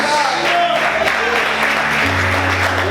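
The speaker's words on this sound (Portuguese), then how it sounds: "Aplauda o Senhor, queridos." A church congregation claps together in steady, dense applause, with singing or a held musical tone running underneath.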